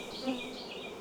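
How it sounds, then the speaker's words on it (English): Honeybees buzz close around an open hive frame in an apiary, a steady, faint, continuous hum with a few individual bees droning louder as they pass. "Oh, more bees and nurse bees."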